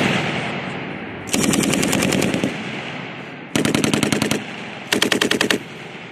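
Marines fire a machine gun with tracers during grenade launcher training: three sustained bursts of rapid, loud automatic fire, each lasting about a second, separated by short pauses over a low rumbling background.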